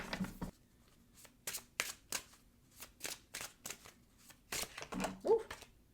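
Wisdom of Tao oracle cards shuffled by hand for a tarot reading, producing a quick series of crisp, close riffling bursts in an uneven rhythm, with a brief voice underneath near the end.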